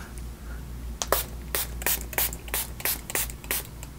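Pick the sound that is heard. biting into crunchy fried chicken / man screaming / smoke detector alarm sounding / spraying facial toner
spraying facial toner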